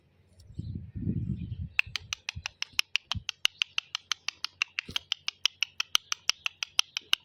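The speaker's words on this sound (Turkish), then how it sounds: "kuşlarımız da gelmiş toprağa giriyor galiba" After a brief low rumble, a bird chirps in a quick, steady series of short, sharp notes, close by and evenly spaced.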